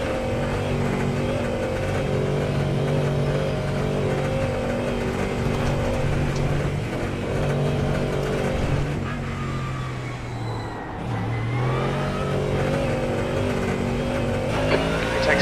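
A Mustang GT3 race car engine roars continuously at Daytona in a racing video game, loud and sustained with shifting pitch, a brief dip as it downshifts, then revving back up.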